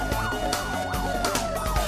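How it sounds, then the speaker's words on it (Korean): A fire engine's siren wails in rising and falling sweeps as the truck pulls out of a fire station on an emergency call, loud and close with steady traffic rumble underneath. "긴급히 소방서를 빠져나가는 소방차"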